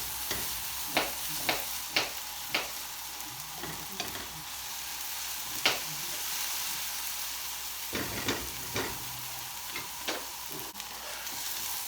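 Red onion sprinkled with salt fries in a pan with a constant hissing sizzle, while scattered light clicks and scrapes of stirring utensils sound close by; no one speaks.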